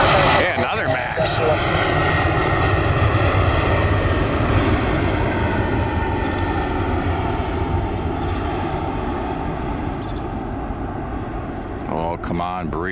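A Boeing 737 MAX jet airliner taking off at Orlando airport, its engine roar loud and steady throughout, with people talking over it and wind buffeting the microphone.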